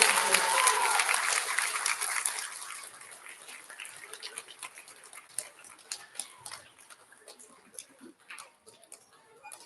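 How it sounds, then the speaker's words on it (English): Applause from an audience at an elementary school student recognition ceremony, loud and dense at first, then thinning into scattered, uneven claps that fade over several seconds. "let's have one more big round of applause for all of us"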